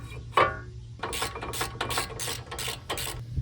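Ratchet cranking two 17mm bolts into a caliper bracket on a 2013-2018 Acura ILX front brake, close and moderately loud: several bursts of quick clicking rasps over a steady low hum, with a sharper metallic clink near the start.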